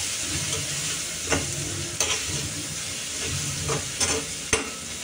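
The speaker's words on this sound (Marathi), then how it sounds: "ही पण आपण तेलामध्ये फ्राय करून घेऊया." Ginger garlic paste sizzles in hot oil with curry leaves in a pot for idli sambar, a steady crackling fry broken by several sharp stirring scrapes, close and loud, with no voices.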